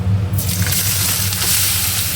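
Chopped onions hit hot mustard oil with nigella seeds with a sudden loud sizzle that keeps crackling steadily throughout.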